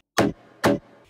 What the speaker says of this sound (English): the bump, bump, which is kind of characteristic for dancehall music